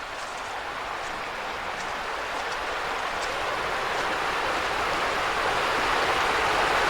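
Tolbakken Creek, the water source feeding the Union Canal, flows beside a muddy trail as a steady broadband rush that grows slightly louder as the listener approaches, with no talk.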